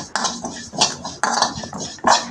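A pan clatters onto a stove to dry-roast cumin seeds for a spicy chutney to go with ragi roti. Several sharp metallic clanks and clinks land close and fairly loud in quick succession, with no voices.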